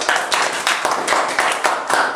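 A small group claps for a young participant at a youth leadership session, a brisk close patter of hands in uneven bursts with nobody speaking.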